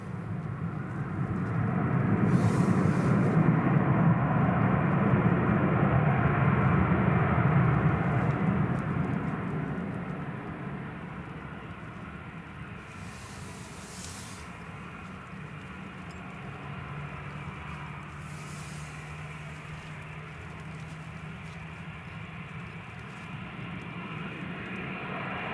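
A jet airliner roars past at Newcastle Airport during a wet, windy storm, its engine noise swelling loud early and then fading into a lower steady rumble, with gusts of wind buffeting throughout.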